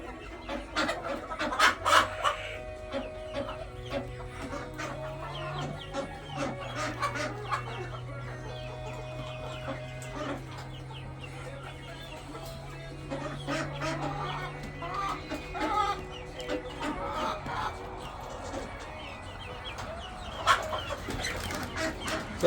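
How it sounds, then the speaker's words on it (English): A mixed-breed flock of chickens in a coop on a rainy day, clucking and murmuring steadily, with repeated close cackles and squawks over a low continuous hum and patter. "we have several different kinds of birds, which is to say that we have a mixed breed flock"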